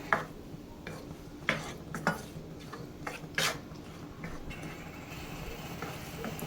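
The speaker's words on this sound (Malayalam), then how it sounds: "ഇനി നമുക്കിതൊന്ന് ഇളക്കി ഒന്ന് കാരമലൈസ് ചെയ്തെടുക്കാം." Pineapple pieces are stirred in sugar syrup in a pan as they caramelize, giving scattered soft clinks and scrapes against the pan at an irregular pace, fairly quiet and close, with no voices.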